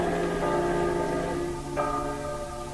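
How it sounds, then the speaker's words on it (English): Church bells ringing out over a city to warn of evacuation in a War of the Worlds radio drama, with ringing tones sustained and overlapping, a fresh strike near the end. "the bells you hear are ringing to warn the people to evacuate the city as the Martians approach."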